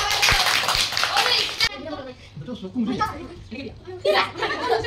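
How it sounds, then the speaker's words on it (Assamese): Children clap together in a burst of near, dense applause from a class of fifth-grade pupils gathered at a home, which breaks off suddenly, followed by kids chattering and giggling close by. "এই হৈ গ'ল নেহাৰ কাৰণে তালিয়া"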